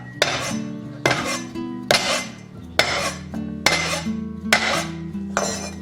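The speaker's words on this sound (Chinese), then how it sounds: "准备一小把大蒜拍碎" Garlic cloves are smashed on a board with about seven firm, evenly spaced whacks that ring briefly like a metal blade on wood, close and loud, with no voices.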